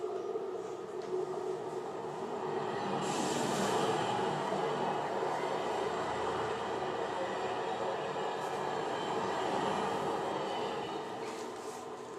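A theatrical train sound effect plays during a student one-act stage play, a steady low rumble and rolling hum that swells and fades over several seconds, with faint high squeals, and no voices over it.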